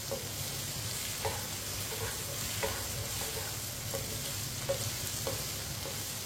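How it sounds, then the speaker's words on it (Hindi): Okra frying in a pan crackles with a continuous sizzle while a spoon stirs it, producing soft repeated scraping taps at a loose, regular pace, no talk. "इसे चम्मच चलाते हुए फ्राई करना है"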